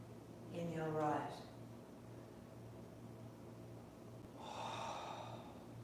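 During a kundalini yoga session, two audible breaths come close to the mic, a sharp nasal inhale and a later softer exhale, over a steady low hum.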